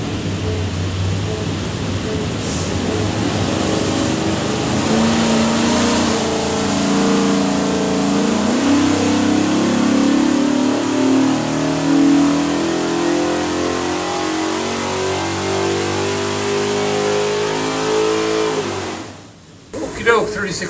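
A 565 HP 427 Ford V8 on a dyno roars loud and near, its pitch climbing steadily through a long pull before cutting off abruptly near the end.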